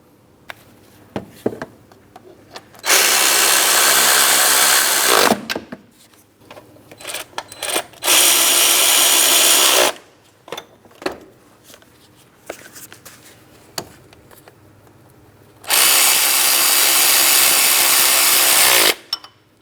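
Power tool snugging 18mm mounting bolts on a 2003-2007 Cadillac CTS 3.6L V6 engine, three sustained loud whirring bursts of roughly two to three seconds each, separated by clanks and handling noise.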